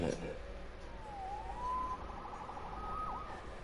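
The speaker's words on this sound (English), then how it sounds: "Saved by the siren." A police siren in the video game Marvel's Spider-Man wails in a rising and falling tone at a moderate distance, under a low steady background rumble.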